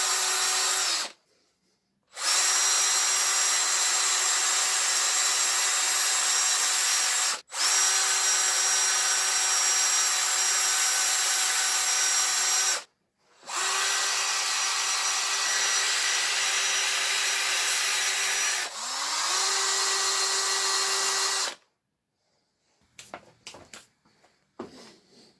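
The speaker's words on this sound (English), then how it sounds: "Holding the drill firmly is the key here, as otherwise the sanding disc can creep into areas" A power drill with a sanding disc grinds an aluminium alloy wheel in four long bursts with short pauses between, a steady high whine close by, then a few scraping sounds.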